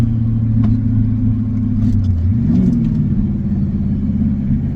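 Ford F-250 diesel pickup, a rare one-year-only model, driving at speed and downshifting to third gear; a steady deep engine drone shifts pitch and rises as revs climb during the gear change, loud and close.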